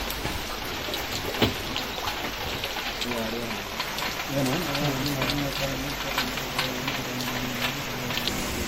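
Heavy rain pouring down steadily on surfaces, a dense continuous hiss with trickling water, while a voice talks over it from about halfway through.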